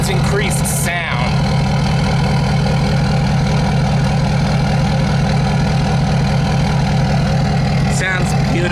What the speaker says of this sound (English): Give you a sound of this exhaust.